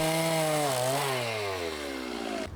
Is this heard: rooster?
no